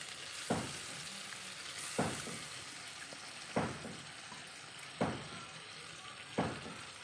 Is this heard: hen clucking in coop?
no